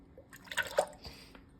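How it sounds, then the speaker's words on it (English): Coconut milk poured into a pan for sticky rice, a short burst of soft liquid splashes and drips, close and fairly quiet, lasting little more than a second with no voices. "grab the coconut milk and we are going to put it in our pan"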